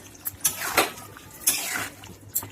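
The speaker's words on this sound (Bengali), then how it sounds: "দেখুন, আমি ঢাকনাটা খুলে নেব।" Metal lid lifted off a cooking pot of chicken curry, with a few close clinks and scrapes of metal and a soft wet bubbling underneath.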